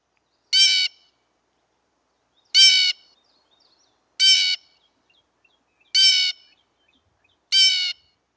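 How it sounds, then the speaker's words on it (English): A blue jay gives five separate harsh calls, evenly spaced about two seconds apart, each loud and clear against silence. "Let's give a listen to the blue jay."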